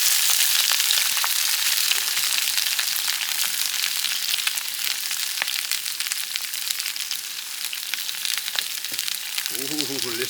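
Sausage and peppers sizzle steadily in hot oil in a pan, a dense continuous frying hiss with crackling pops throughout, close and loud, with a brief voice near the end.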